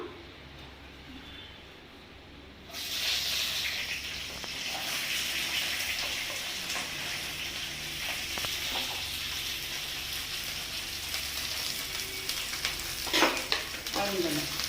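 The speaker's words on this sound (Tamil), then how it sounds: "எண்ணெய் 2 ஸ்பூன் ஊற்றிருக்கிறேன். இதெல்லாம் வணக்கி எடுத்துக்கலாம்." Curry leaves and red chillies dropped into two spoons of hot oil for a chutney, a sudden loud sizzle that settles into steady close frying, with the clink of stirring now and then.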